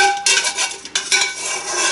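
Pasta being drained for macaroni cheese, a draining spoon scraping and clinking against a metal pot as bits are scooped off the bottom, close, bright and clattery with no speech.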